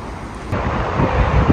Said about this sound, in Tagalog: Ayan po, grabe, napakalakas ang hangin.